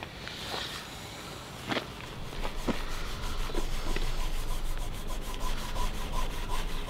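A hand rubbing across a car valve cover treated with Labello lip balm makes a continuous close, soft friction swish with a few faint taps, alone without talk.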